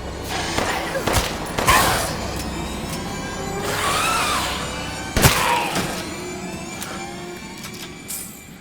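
Several sharp gunshot cracks ring out in bursts amid game sound effects and a steady background hum in Resident Evil Village, shooting zombies in Castle Dimitrescu, with a louder shot near the middle.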